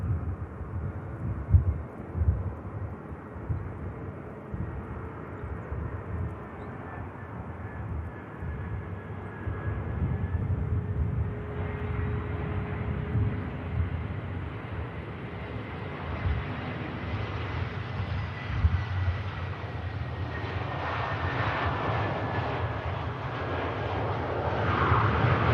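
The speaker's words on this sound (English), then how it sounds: "Great touchdown from the EasyJet." EasyJet passenger jet touching down at Manchester Airport in rainy weather, a steady loud roar of jet engines with low rumble and wind buffeting throughout, swelling slightly toward the end, with no talk.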